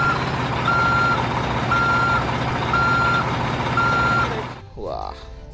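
A toy tow truck gives a steady series of loud electronic reversing beeps, four or five evenly spaced tones close by, ending with a brief clatter as the sound cuts off.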